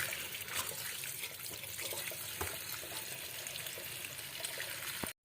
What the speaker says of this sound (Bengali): আমি শাকগুলোকে ভালো করে ধুয়ে নিই এইভাবে